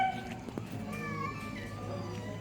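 Street cats meow and squabble nearby in a few short, strained yowls, fairly quiet against low background noise.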